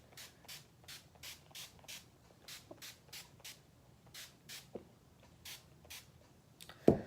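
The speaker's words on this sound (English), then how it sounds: "So I'm just gonna spritz this. I'm just gonna spray this like all over my face." Repeated short misting sprays of setting spray onto a face, about a dozen evenly spaced hisses close to the mic, ending with a louder bump.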